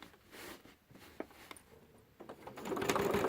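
A sewing machine stitching during free motion quilting, heard as a quiet, steady mechanical whir with faint ticks that grows slightly louder toward the end.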